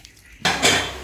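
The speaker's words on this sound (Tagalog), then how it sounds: "naghugas ng pinggan" Dishes and cutlery clatter in one sudden burst of clinking metal and crockery as plates are washed after a traditional cassava-pounding meal, close by with a short scraping tail and no talk.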